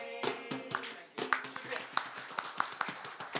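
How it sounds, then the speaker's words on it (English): An audience at an awards show claps after a skit, a quick run of sharp, close handclaps that begins after a short pause, with voices heard alongside. "I definitely think we should give another round of applause"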